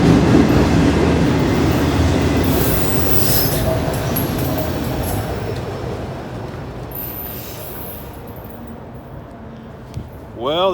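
A long freight train of 76 axles with a single auto rack car rolls past close by, a loud continuous rumble of wheels and rails with squealing, fading slightly toward the end.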